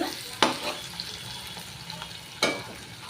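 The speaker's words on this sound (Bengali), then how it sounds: "পেঁয়াজটা ভাজা করে নিয়েছি" Fried onions stirred in a pan, a soft continuous sizzle punctuated by two distinct scraping strokes of the spoon, close and moderately loud, with no one speaking.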